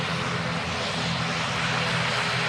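A propeller airplane engine in the Roblox flight game PTFS drones steadily as the aircraft taxis, a close, constant hum that holds at one level throughout with no voices.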